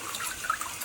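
Water spraying from the wash nozzle of a Clirass bidet toilet seat in its rear wash setting, a short, steady hiss of cold water jetting against porcelain.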